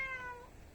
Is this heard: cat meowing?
yes